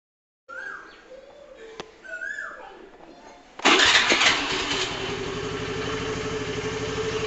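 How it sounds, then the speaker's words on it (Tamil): A vehicle engine, just serviced with an oil change, cranks and fires up about halfway through, then settles into a loud, steady idle. Before that there is quieter outdoor ambience with some bird-like chirps. "இப்போ வண்டியை ஸ்டார்ட் பண்ணுவோம்."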